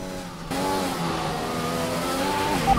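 A car engine in the F1 2021 racing game, a Williams car at Japan suffering a severe engine failure, drones in a strained steady tone, loud and close, with rising pitch near the end.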